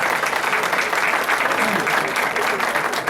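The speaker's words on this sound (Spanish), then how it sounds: "Lucho Cherres, a quien le damos un aplauso y le pedimos que se ponga de pie" A crowd applauds a Ecuadorian football figure at a formal ceremony, steady dense clapping at an even level throughout the short stretch with no gaps.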